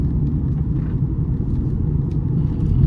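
A 2025 BMW 330i M Sport takes a corner, its low engine and road rumble steady and close throughout, with faint tyre and wind noise above and no voices.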